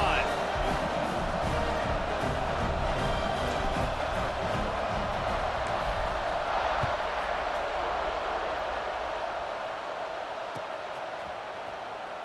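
Stadium crowd noise from the College Football 26 video game during a Georgia vs. Alabama matchup, a steady broad roar filling the background after a touchdown drive, holding level for about twelve seconds and easing slightly near the end.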